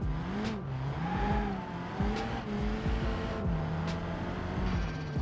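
Simulated front-wheel-drive car in BeamNG.drive straining for grip, its engine note rising and dipping as the power keeps cutting, with brief tire squeals over a steady loud drone; no talking.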